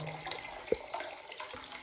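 Hot water running from a tap into a container, a soft continuous flow with one brief knock, close and fairly quiet.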